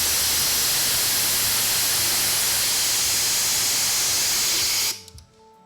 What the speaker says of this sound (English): You can also release your air right here on the side like so.